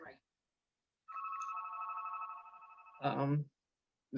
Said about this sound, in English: Maybe somebody else because my phone is ringing.